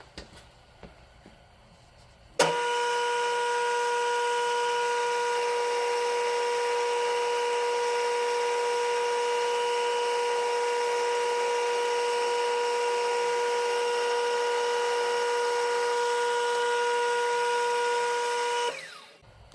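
A large bit drills through a walking beam hub in a steady, loud, whining grind that holds a constant pitch for about sixteen seconds, then stops abruptly. No one speaks.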